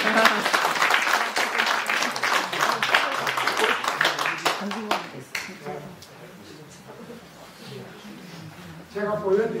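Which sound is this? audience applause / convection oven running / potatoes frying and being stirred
audience applause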